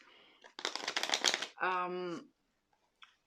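Tarot cards shuffled and handled in a reading, a quick run of dense riffling bursts close by, followed by a voice speaking alone.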